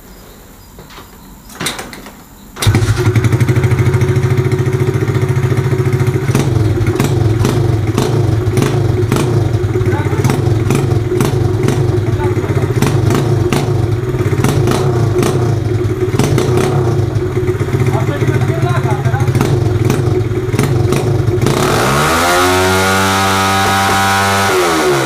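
A Loncin 125 motorcycle engine fitted with a tuned K170 stator fires up after a brief clatter and runs loud and close at a steady, buzzing idle for about twenty seconds, then revs up with a rising whine near the end.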